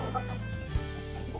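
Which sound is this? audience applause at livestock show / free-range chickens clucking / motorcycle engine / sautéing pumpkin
free-range chickens clucking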